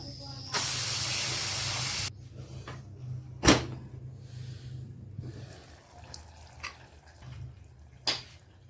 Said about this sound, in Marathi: कुकरही थंड झालेला आहे. तर आपण आता झाकण उघडणार आहोत.